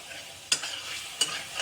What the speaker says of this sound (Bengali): তো এই তেলের মধ্যে এবার আমি আদা রসুনের পেস্টটাকে আমি আগে তেলে দিয়ে নেব।